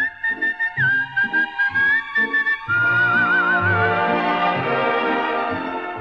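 A whistled melody from a 1953 Italian song, sustained and lilting with a light vibrato, carried over a steady strummed guitar accompaniment, loud and close.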